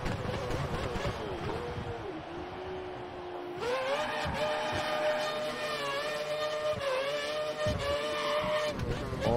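A Formula 1 car in F1 2013 whines steadily with a high engine tone that rises and shifts through gear changes during pit entry, continuous and fairly close, with faint talk underneath.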